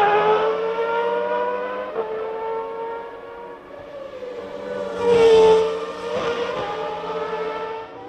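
McLaren Formula 1 car from 1993 racing, its high-pitched engine whine rising and falling through gear changes and a louder close pass mid-way, continuous with no talk.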